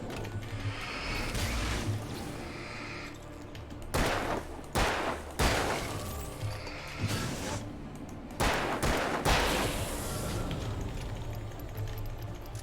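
Gunshots in the Alan Wake video game, loud sharp blasts fired in separate bursts with clamorous ambience between them, no talk over the shots.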